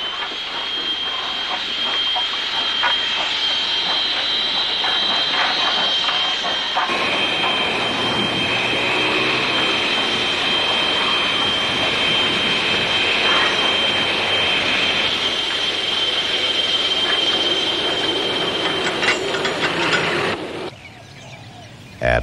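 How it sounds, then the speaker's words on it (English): An 1895 veteran G-Class steam locomotive shunting in a Western Australian station yard gives a continuous loud rumble with a sustained high squeal from the wheels that runs almost to the end, then stops abruptly. "The G-Class loco, a veteran of 1895, is busy shunting around the station yard."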